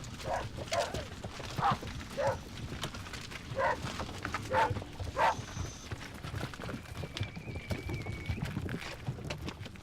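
Cattle hooves clop irregularly on a hard surface as several animals cross a level crossing, with steady outdoor background noise and a few scattered clatters.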